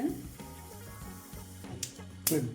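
Mustard seeds and cumin crackle faintly in about one and a half teaspoons of hot oil for a tempering, with soft pops and a couple of sharper spits.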